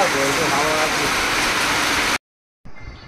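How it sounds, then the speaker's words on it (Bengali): Rain falls in a dense, steady hiss for about two seconds, cuts to brief silence, then resumes more faintly, with a voice talking over it. "এই যে বৃষ্টিটা পড়ছে।"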